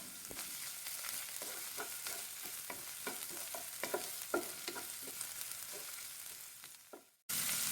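Shallots stir-fried in hot cooking oil over a small flame sizzle steadily, with repeated scraping stir strokes, before the sound cuts off abruptly near the end.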